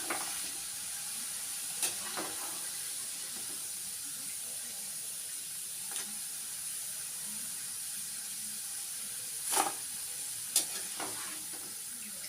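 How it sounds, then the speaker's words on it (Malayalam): Finger chips frying in oil with curry leaves give a soft steady sizzle and hiss, with a few sharp clinks of stirring scattered throughout. "അപ്പോൾ ഏതാണ്ട് മൂത്തിട്ടുണ്ട് ഫിംഗർ ചിപ്സ്. കുറച്ച് കറിവേപ്പിലയും കൂടി ഞാൻ അതിൻ്റെ കൂടെ ആഡ് ചെയ്തിട്ടുണ്ട്."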